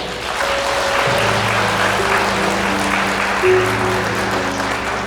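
Wedding guests applaud in a hotel grand ballroom, a steady, dense clapping that holds for several seconds over sustained background music, loud and close.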